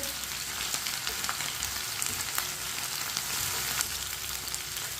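Steady sizzling of onion and whole garlic cloves frying in a pan until lightly browned, with occasional crackles and light stirring, close and continuous throughout.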